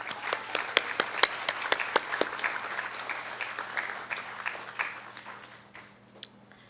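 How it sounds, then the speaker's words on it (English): A round of applause from the audience at an 8th grade graduation ceremony, sharp claps at first that thin into scattered clapping and fade near the end. "Just one more time, another round of applause for Ashley."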